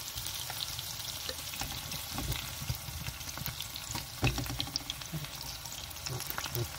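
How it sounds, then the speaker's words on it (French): Button mushrooms frying in a pan with chicken for beer-braised chicken, heard as a steady close sizzle and crackle with occasional stirring knocks, continuous throughout and without talking. "Alors je mets champignons de Paris."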